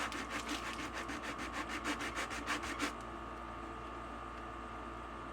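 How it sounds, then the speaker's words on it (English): Hand sanding along the sharp edge of a cured epoxy resin casting: about a dozen quick, rhythmic rasping strokes for three seconds, then they stop, leaving only faint room noise. "I'll probably take this and just sand it down some like this where it's not sharp"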